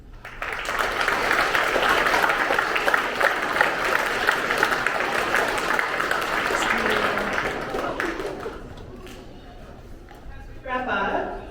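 Sustained crowd applause at a school veterans assembly, dense and steady for several seconds before fading, with voices emerging as the clapping dies down.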